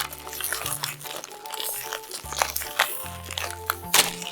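Crinkly plastic toy bag being crumpled and pulled at, then ripped open in short tearing bursts, close up, over a faint musical hum in the background.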